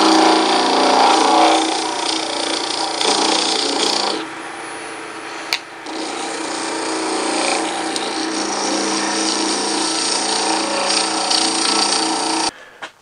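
Lathe turning an aluminum bar at about 3,200 rpm with a semi-square carbide tool, a steady close motor hum with a rough scraping cut that varies in intensity, then a brief lull and stop.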